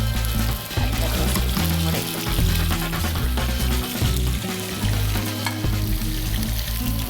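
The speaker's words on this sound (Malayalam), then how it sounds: "നമ്മുടെ ചിക്കൻ ഇവിടെ ഈ ഒരു പാനിൽ ഫ്രൈ ആയിക്കൊണ്ടിരിക്കുക" Chicken frying in hot oil in a pan, a loud continuous sizzle and crackle with stirring and clattering bumps underneath, heard up close.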